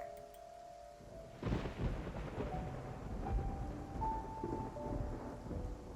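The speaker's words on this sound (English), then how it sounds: "is followed by a single clap of thunder" In the video game Love and Deepspace, a single clap of thunder bursts in over soft rain and faint tonal music, then rolls on as a long, low rumble beneath the steady rainfall.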